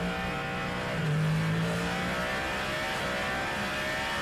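Cadillac V8 hypercar racing in the 2025 WEC season at Qatar, a loud steady engine roar with a brief rise in revs near the middle and no voices.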